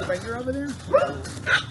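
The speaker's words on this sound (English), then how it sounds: "Look, they're barking at each other already." Dogs yipping and barking at each other nearby, with whimpery rising calls and a sharp bark, mixed with people talking over them.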